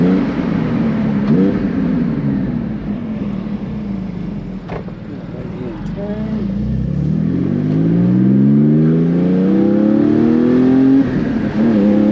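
A Porsche Cayman GT4 on Cup 2 track tires is driven hard on the road, its engine loud and close as it revs and pulls through rising and falling pitch sweeps, with cabin noise throughout.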